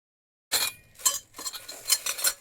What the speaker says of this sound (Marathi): चला आता ही भांडी पण मला ठेवायची तर